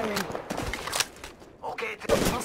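Bursts of video game gunfire, several sharp shots spaced through a short exchange, fairly close, mixed with a player calling out over the action.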